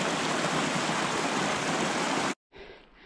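Icy mountain stream on Colorado's Mount Bierstadt, a fourteener, rushing in a loud, steady hiss, then an abrupt cut and a quieter, duller continuation of flowing water.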